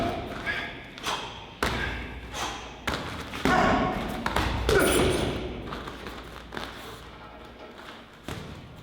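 Front kicks strike a heavy punching bag during a kickboxing bag drill, giving about eight heavy, close thuds at an irregular pace, each followed by a short rattle and fade, with a few lighter taps in between.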